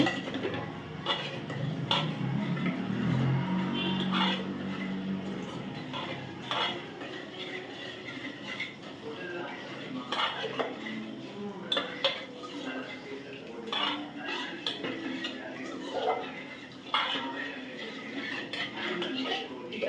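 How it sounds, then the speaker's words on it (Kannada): Flour is stirred into village-style mutton sambar in a pot, with a metal spoon clinking and scraping against the vessel in irregular bursts over a low cooking murmur. "ಹಿಟ್ಟಾಕಿ ಸ್ವಲ್ಪ ಮಿಕ್ಸ್ ಮಾಡಿಬಿಟ್ರೆ"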